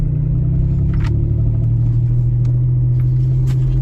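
The 3.4 V6-swapped Pontiac Fiero engine runs at a steady, close idle: a continuous low rumble that stays even throughout, with no voices.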